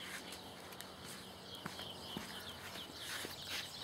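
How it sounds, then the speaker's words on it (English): Faint hooves clip-clop irregularly as horses walk, with light rustling and distant birds in the background. "See how these horses are walking in?"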